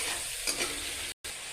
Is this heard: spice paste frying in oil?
yes